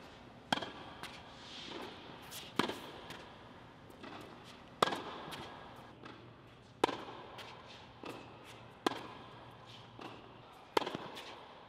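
A tennis ball is struck with a racket during volley practice on a court: sharp, distinct pops land roughly every two seconds, about six in all, each clear and moderately near against quiet background.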